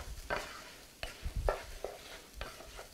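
Rice toasting in butter in a pan for risotto sizzles softly while a spoon stirs it in several scraping strokes, each one lifting the frying crackle briefly.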